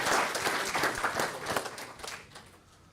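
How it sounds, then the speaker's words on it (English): An audience at an entrepreneurship pitch competition applauds, a dense burst of many hands clapping at close range that gradually thins and fades out toward the end. "a round of applause for the guys from"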